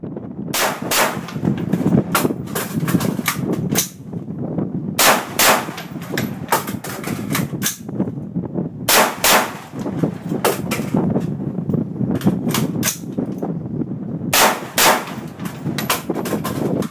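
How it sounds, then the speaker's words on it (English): Rapid bursts of AR-15 rifle fire through a muzzle brake, loud sharp cracks in quick strings with short pauses between volleys, heard close and alone. "So I put the brake on there just so I could stay on target and get those quick follow-up shots with it"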